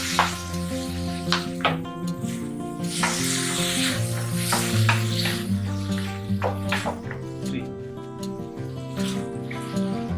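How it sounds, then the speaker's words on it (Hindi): Chopped tomatoes sizzle in a hot pan for Punjabi-style chana dal paneer, crackling and popping loudly while a utensil stirs and scrapes, with tonal clinks through the frying. "अभी मैं टमाटर डाल रहा हूं।"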